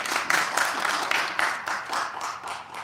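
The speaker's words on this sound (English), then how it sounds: "Could everyone please give Ayla a round of applause?" An audience claps for a co-host at a live Pakistan Resolution Day event, a steady ripple of applause of moderate volume that fills the moment without talk.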